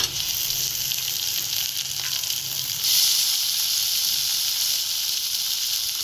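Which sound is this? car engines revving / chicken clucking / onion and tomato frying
onion and tomato frying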